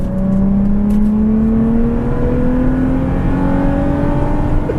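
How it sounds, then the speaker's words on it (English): A 2004 Infiniti G35 with its muffler removed revs and pulls hard, the exhaust note climbing steadily in pitch as it accelerates. The sound is loud and close, with no talking. "these engines sound so amazing whenever you do an exhaust on this one"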